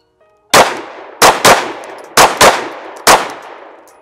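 Five sharp, loud pistol shots fired strong hand only ring out close by in uneven pairs over about three seconds, each with a short echoing tail, preceded by a faint shot-timer beep.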